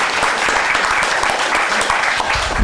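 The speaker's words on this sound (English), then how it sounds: "another round of applause" A loud, close round of applause from the audience at a public Social Prescribing Day event in Atlanta, continuous dense clapping with a faint voice underneath.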